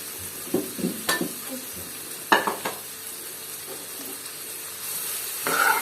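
Onions fry in a pan for a spicy chicken dish, a soft steady sizzle under the clatter of a spoon stirring and scraping against the pan in short bursts, with no voices.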